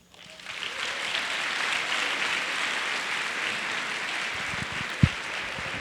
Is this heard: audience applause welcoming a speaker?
yes